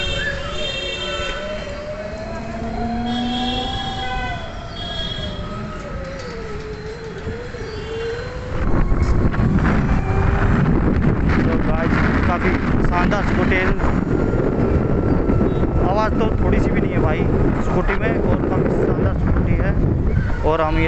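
Ride on an Ather 450X electric scooter on the road: after a stretch of quieter traffic sounds, heavy wind buffeting swells into a loud, steady roar that masks nearly everything, with a voice talking early on.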